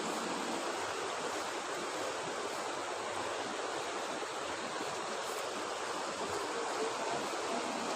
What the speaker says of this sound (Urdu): یہ دیکھیں، یہ دریائے کنہار ہے۔